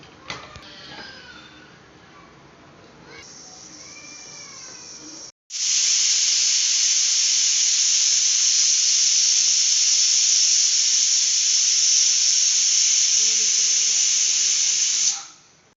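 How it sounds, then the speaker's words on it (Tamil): A pressure cooker cooking rice lets off steam: a quiet stretch of faint clinks, then a loud, steady, close hiss bursts out and runs for about ten seconds before cutting off abruptly. "குக்கர் ரெடி ஆகுது ஆவிலாம் போயிட்டு"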